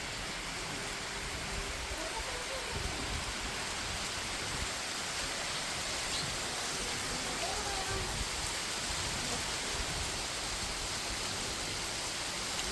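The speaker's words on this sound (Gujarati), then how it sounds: "વરસાદ આવ્યો" Steady rain hisses continuously over a farm field at a low, even level, a soft wash of falling water with no break.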